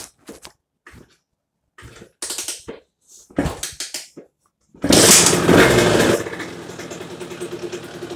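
A tuned Top Racing moped engine catches after a few dry cranking bursts and revs loudly for a second or so, then settles to a quieter idle, close and alone.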